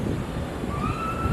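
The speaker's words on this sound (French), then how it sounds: "J'espère que vous m'entendez par-dessus le vent." Wind blows hard on the shore at Cramond Beach, Scotland, a constant loud rushing roar across the mic with a faint high tone drifting in the background.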